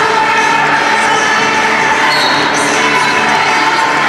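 A large crowd in the stands at a high school girls' varsity basketball game, a loud, steady roar of chatter and cheering that fills the gym without a break.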